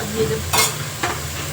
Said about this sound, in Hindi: तो हमने डाल दिया प्याज और लहसुन का पेस्ट, ठीक है। ये भुन रहा है